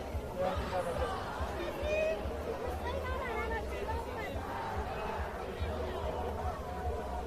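A dense crowd of people at an Iranian protest in London, a steady outdoor hubbub of many overlapping voices and chatter continuing throughout at a fairly even level.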